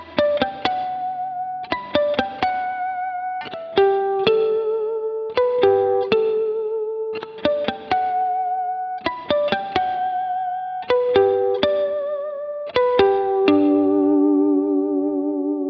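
Electric guitar played through effects with a whammy bar, a sequence of plucked chords whose notes bend and waver, ending on a long sustained chord that rings out and slowly fades, with no voices.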